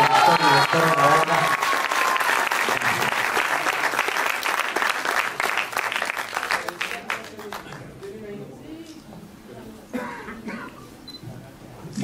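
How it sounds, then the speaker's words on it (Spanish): Applause breaks out at a film press conference for a creator and producer, strong at first with camera shutter clicks, then thinning to scattered claps and a cough before a brief renewed burst. "les quiero pedir un fuerte aplauso para el señor Paco del Toro"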